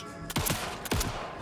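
Gunfire in the space game Starfield: two loud, close shots about half a second apart, each a sharp crack with a short ringing tail over steady game ambience.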